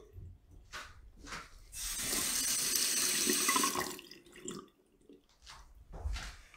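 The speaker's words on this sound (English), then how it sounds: "Now look how much the water is draining." Water gurgles and rushes down a freshly unclogged sink drain for a couple of seconds, framed by quieter splashes and drips before and after.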